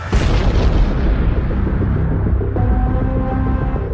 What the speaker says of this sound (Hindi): फर्राटे भरती कारों के बीच हुए मिसाइल हमले को देख पूरी दुनिया दंग है